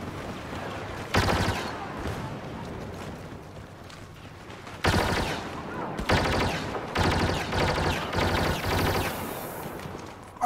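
Sustained barrage of gunfire and explosive bursts from a Star Wars Battlefront match, loud and dense in several clustered volleys with quieter gaps between them; a voice talks faintly at times.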